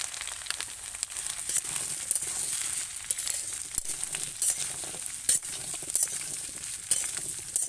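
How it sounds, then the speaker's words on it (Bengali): Chopped papaya stir-frying in a pan for a Bengali fish curry, a steady close sizzle with scraping and stirring clatter throughout, no talk. "পেঁপে কুচিটা ঢেলে দিলাম।"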